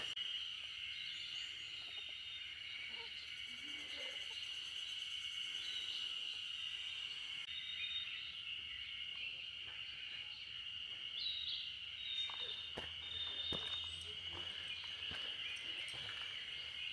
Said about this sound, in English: But I think they're cicadas, so they're not dangerous really.